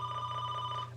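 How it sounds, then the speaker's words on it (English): A phone rings with a steady electronic tone, sustained and fairly quiet through the short moment, with no voices over it. "Hello phone. I'm not gonna pick you up."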